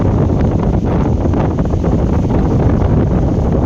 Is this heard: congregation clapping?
no